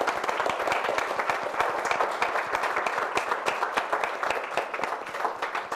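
Audience applause for a guest writer at a public art talk, steady dense clapping from a seated crowd throughout, fairly even in loudness from start to end.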